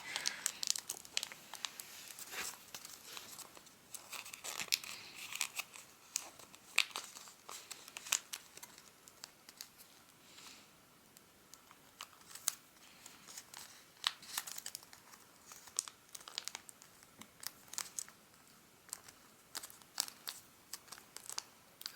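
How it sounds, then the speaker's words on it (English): Origami paper crinkles and rustles close up as it is folded and creased, with soft irregular crackles and sharper presses scattered across a quiet background. "we're going to fold that in on itself"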